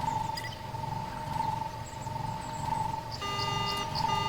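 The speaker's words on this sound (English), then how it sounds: "The speeder's alarm begins to ring out." In the Star Wars KOTOR video game, a speeder's alarm rings out as a sustained electronic tone with a pulsing warble over a low ambient drone, and brighter beeping layers join near the end.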